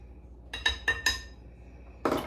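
Crumble ingredients being mixed in a bowl, heard as three quick metallic clinks of a utensil against the bowl, then a brief scraping rustle, close and fairly quiet.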